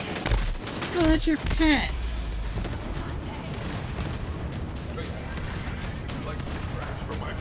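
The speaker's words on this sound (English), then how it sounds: "Sniping with a multiple shot rocket launcher." Multiple-shot pistol rocket launcher fire in Borderlands 3, booming blasts under a brief spoken remark, then a dense, continuous wash of explosive rumble and crackle.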